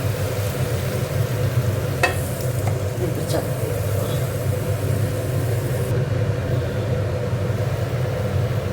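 Malabar spinach (puishak) fries in a pan, making a steady, dense sizzle throughout, with a few faint scrapes and clicks from stirring near the start. No one talks.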